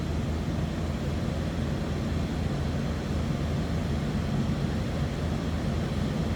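A 2004 Jeep Wrangler Sport with the 4.0-liter engine idles just after a cold start, giving a steady, even low rumble throughout with no voices over it.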